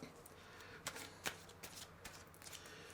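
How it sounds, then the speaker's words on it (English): Tarot cards are shuffled and drawn, with soft riffling, sliding and a few sharper card snaps, close but quiet in a still room. "We'll draw one more card, which will be the overarching energy."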